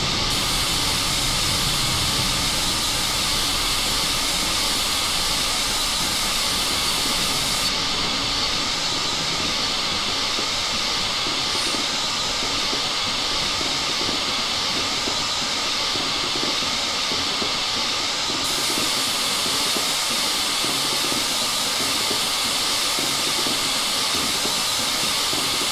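Steam hissing from the Flying Scotsman steam locomotive in Train Simulator on the ECML London to Peterborough line: a loud, steady, continuous hiss with a rail-like rumble underneath, lasting throughout with no pauses and no talking.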